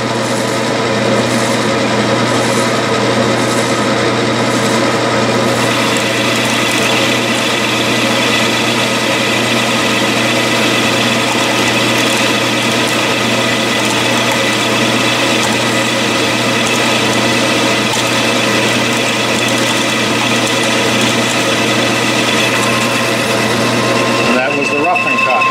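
A metal lathe turning 1018 steel at 600 RPM with cutting oil gives off a steady, loud machine drone and hum that runs continuously, with a brief shift in tone near the end.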